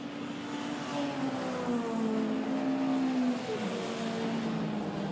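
Classic racing cars, including a powerful TVR Griffith, roar around Brands Hatch in a steady continuous engine drone with rising and falling pitch as they lap, loud and close throughout.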